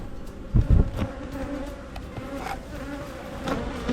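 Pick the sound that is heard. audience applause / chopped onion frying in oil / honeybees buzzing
honeybees buzzing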